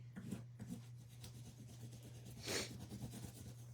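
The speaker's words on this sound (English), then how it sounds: "Is anybody doing any kind of rubbing right now alongside me?" A soft, steady rubbing sound, close and quiet, with a low constant hum underneath and a slightly louder swipe near the end; no one speaks.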